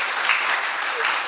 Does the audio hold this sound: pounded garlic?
no